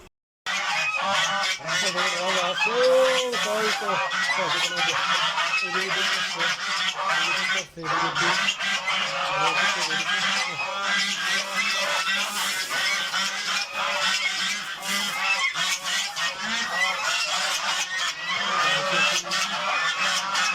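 A flock of domestic geese honks loudly and continuously at a farm in Saudi Arabia, many harsh calls overlapping close by, with no break in the clamor.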